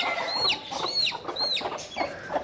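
A hen clucking repeatedly in a farmyard, close and fairly loud, with a steady run of calls and no speech.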